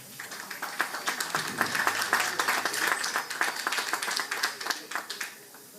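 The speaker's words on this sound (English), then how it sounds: "Give yourselves a clap." Graduates and audience at the Foga Road High School first graduation ceremony break into dense, lively clapping that swells, holds and then tapers off, with faint voices mixed in.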